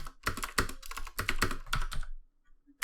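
Code typed on a computer keyboard: rapid close bursts of key clicks in uneven clusters for about two seconds, then a quiet pause with one final tap.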